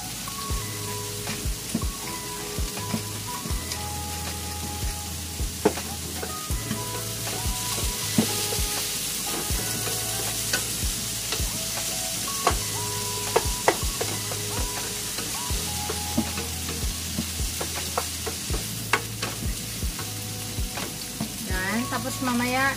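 Pork belly sizzles and crackles steadily in a hot frying pan, a dense continuous hiss with scattered sharp pops and occasional utensil clinks, close and loud throughout, while a faint low hum runs underneath.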